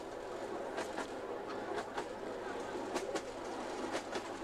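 A steam train at a gala carries passengers toward Cleethorpes; from inside, a steady rolling rumble is broken by faint rhythmic clicks of wheels over rail joints.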